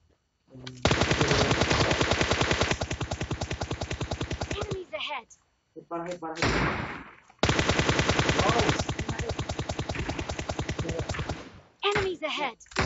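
Automatic gunfire from PUBG Mobile, two long sustained bursts of rapid rounds with shorter bursts between, loud and dense, with voices talking over parts of it.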